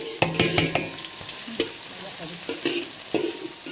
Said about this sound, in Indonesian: ini saya iris-iris semua kita masukkan dulu tumis kita tumis ya